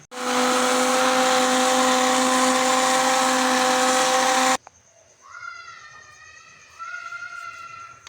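An electric grinder blends green masala for a chicken dish with a loud, steady whirring roar that cuts off abruptly after about four seconds, followed by quieter wavering tonal sounds.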